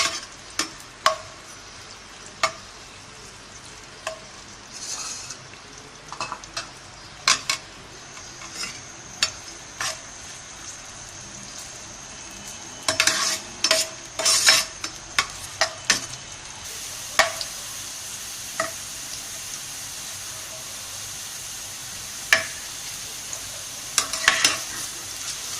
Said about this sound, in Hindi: अब हम प्याज डालेंगे ताकि हम अपनी ग्रेवी बना सकें